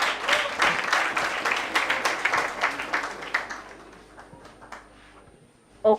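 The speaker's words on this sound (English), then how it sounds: "Please clap, clap, clap" An audience at a debate academy awards ceremony claps in a dense, moderately loud round that fades away over a few seconds.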